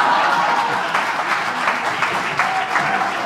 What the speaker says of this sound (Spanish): ahora me da aplausos